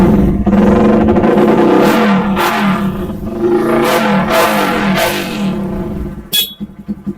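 Kawasaki Ninja motorcycle engine revving up close, a loud, continuous buzzing roar that swells in several repeated throttle blips before dropping back to idle.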